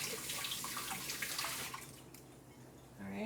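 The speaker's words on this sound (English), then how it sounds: "Wash hands." Tap water runs steadily while hands wash beneath it, splashing and gurgling loudly at first, then easing to a softer flow before a brief surge at the end.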